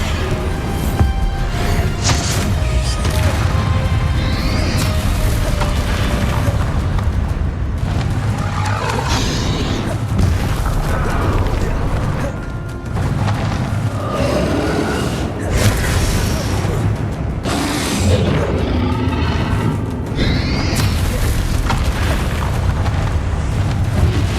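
Bombarda blasting spells in Hogwarts Legacy during a battle with Ranrock: repeated loud booming explosions and rumbling debris within a dense, chaotic combat soundscape, with voices calling out at times.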